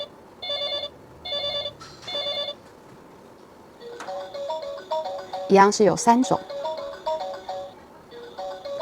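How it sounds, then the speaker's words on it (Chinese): A children's multifunction toy telephone plays its electronic ringtone in repeated bursts of bright beeping tones, loud and close, alternating with short pauses while someone talks over it. "它这个是有通话的铃声。"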